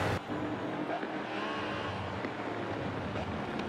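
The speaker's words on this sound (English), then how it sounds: "Sunny Flair still right behind Shouka, and Shouka gets off the track" Race cars in Forza Motorsport 7 droning along the track, a steady, moderately faint engine roar that holds constant without clear passes.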